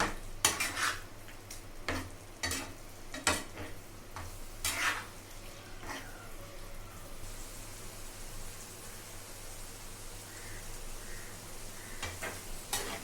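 Egg masala curry simmering in a pan, with a soft steady bubbling and sizzle under repeated sharp clinks and scrapes of a spoon stirring against the metal pan, loudest in the first few seconds.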